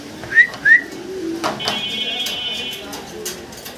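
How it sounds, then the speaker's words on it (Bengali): Pigeons, including yellow Shekhar birds, at a seller's stand give two short sharp calls near the start, then softer cooing and whistling tones under someone talking. "জিয়া ভাই আমরা দেখতেছি কি শেখর কবুতর, ইয়েলো কালার"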